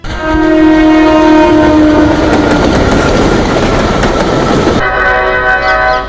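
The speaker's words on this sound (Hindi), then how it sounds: "ट्रेन से आए थे।" A train passing loudly and close, with a long, sustained horn blast over rumbling wheels and rhythmic rail clatter, the horn cutting off near the end while the rolling noise continues.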